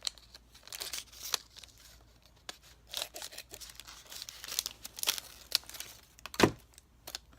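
Paper being cut with scissors to make a jagged-edged pocket for a handmade journal: close, irregular snips and crinkles with short pauses between cuts, no talking.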